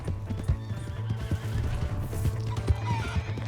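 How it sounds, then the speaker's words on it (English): Horse neighing in Red Dead Redemption 2, with a loud whinny over steady clip-clop hoofbeats and a low rumble running throughout, all close and continuous with no talk. "That's my horse!"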